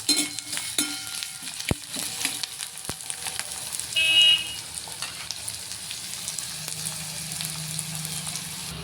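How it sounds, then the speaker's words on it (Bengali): Onion and garlic fry in oil with a continuous close sizzle and hiss, broken by occasional sharp clicks and scrapes of a spoon against the pan, and no one speaks. "পেঁয়াজ আর রসুনটা তেলে দিয়ে দিলাম"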